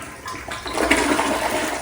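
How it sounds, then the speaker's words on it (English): A toilet flushing up close with a loud rushing surge of water after a short quiet start, alone with no talk. "We'll give the toilet a flush."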